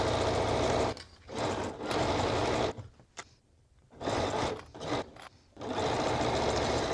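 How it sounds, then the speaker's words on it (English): A sewing machine runs a narrow zigzag stitch along the hem of a Wexford top, whirring steadily in three loud bursts separated by short pauses. "With that narrow zigzag stitch, we're just sewing at 3/8 of an inch seam allowance."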